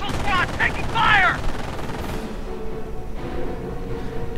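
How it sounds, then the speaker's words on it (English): Gunfire from a World War II real-time strategy video game as a rifle squad takes fire: bursts of rifle and machine-gun shots early on, fading into steady battle ambience with distant rumble. "Rifle squad taking fire!"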